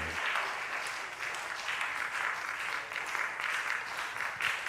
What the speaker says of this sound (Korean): 한번 앞으로 오는 동안 박수 한번 뜨겁게 부탁드리겠습니다.